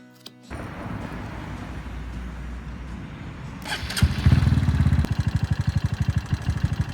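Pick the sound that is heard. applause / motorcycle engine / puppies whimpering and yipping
motorcycle engine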